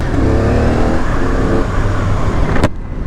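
A CF Moto 450SR motorcycle engine idles while warming up from cold, a loud, steady close-range drone with an even rumble that cuts off sharply near the end.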